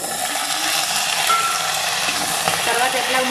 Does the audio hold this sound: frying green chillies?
yes